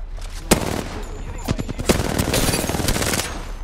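Close, loud automatic gunfire and sharp single shots crack in an Apex Legends firefight, rapid bursts repeating over steady game noise.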